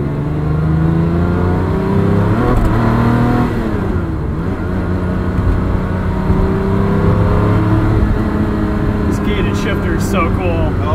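A 1984 Ferrari 512 BBi engine pulls hard while driving, a steady loud mechanical roar with rising and falling revs across the whole stretch, heard from inside the car.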